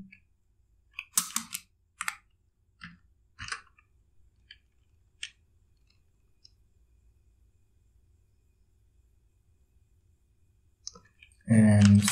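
Computer keyboard typing a command into a Kali Linux terminal: scattered, sharp key clicks, a few in quick clusters with pauses between, then a louder, denser burst of noise at the very end.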